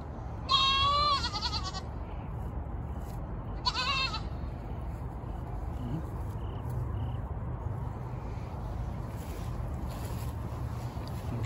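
Goats bleating on a farm, two loud wavering bleats close by in the first few seconds, then a steady outdoor background with faint rustling.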